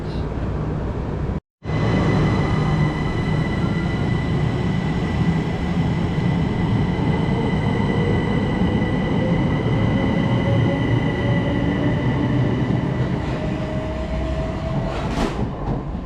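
A Southern Class 377 electric multiple unit pulls out of Arundel station on the 1345 service from Bognor Regis to London Victoria, a steady loud rail rumble with rising motor whine and a brief high squeal near the end.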